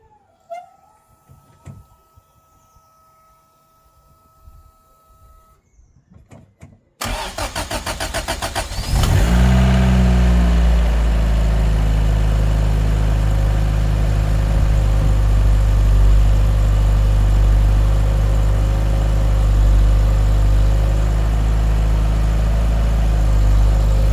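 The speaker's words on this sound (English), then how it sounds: "it's fuel injected, so with a bit of luck it'll just kick off, if not first time then the second" A Toyota Starlet Turbo conversion with fuel injection cranks briefly after a quiet stretch, catches and settles into a loud, steady idle close by that lasts to the end.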